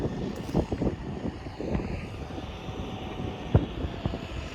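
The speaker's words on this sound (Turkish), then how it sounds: "Mısırın altta bıraktığı sert tabakaya geldiğinde traktörü bayağı zorluyor." Erkunt Kudret 105 tractor pulling a chisel plow through hard compacted soil, a steady low engine drone under straining load, with rumbling bumps and gusts of wind noise, no talk.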